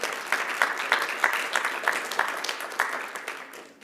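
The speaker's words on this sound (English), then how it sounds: "give a round of applause for Gord and the Lyric Theatre" Theatre audience clapping for a performer and the Lyric Theatre, a moderate round of applause with a few sharper bursts standing out, fading slightly toward the close.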